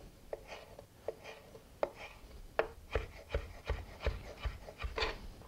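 A knife cuts a tomato quarter into thin julienne on a board, giving a run of crisp, evenly spaced chopping taps that quicken and grow slightly louder toward the end, quiet and close with no talk.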